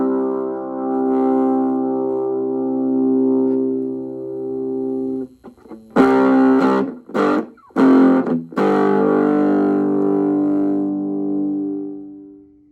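Electric guitar through a Transparent Overdrive pedal pushing the front of the amp: a long sustained chord rings out and fades, then several loud, choppy strummed chords start and stop before a final ringing chord.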